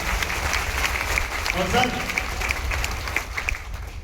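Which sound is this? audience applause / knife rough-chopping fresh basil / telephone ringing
audience applause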